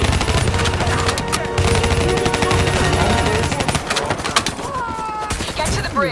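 Dense automatic cover fire in Call of Duty Black Ops 3 rattles loudly and continuously, with sharp individual shots and battlefield clatter toward the end.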